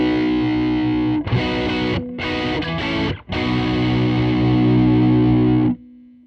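Electric guitar through a Strymon Sunset dual overdrive on its germanium drive setting, playing loud sustained distorted chords with two brief gaps between strums, ringing out alone before cutting off.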